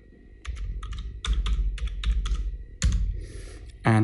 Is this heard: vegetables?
no